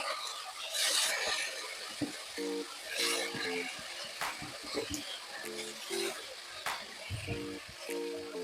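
Moringa (drumstick) flowers are tossed into a hot pan and stirred, giving a soft, continuous sizzle broken by scraping strokes of the spatula, with brief spoken bits and a few tonal beeps in between.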